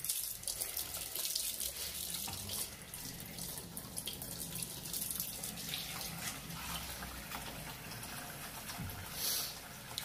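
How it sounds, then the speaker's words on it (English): Soapy water runs steadily from a tap into a tub filled for bathing a hedgehog, a continuous close splashing and gurgling rush throughout. "Soapy water."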